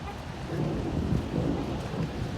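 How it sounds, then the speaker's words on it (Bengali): Thunder rolls in a deep, continuous rumble after a heavy hailstorm, with rain and wet outdoor noise filling the background. "আকাশ ডাকছে"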